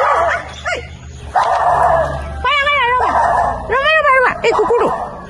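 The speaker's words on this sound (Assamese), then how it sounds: "এই কুকুৰটো" A pet dog named Tikila barks and whimpers close by in a home, with sharp yips and bow-wow barks between whining cries, while people speak over and around it.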